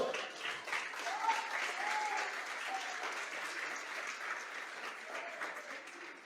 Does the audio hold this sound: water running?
no